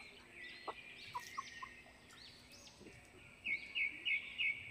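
Rhode Island Red chickens cluck and call at close range in short, repeated bursts that grow louder toward the end, with no talking over them.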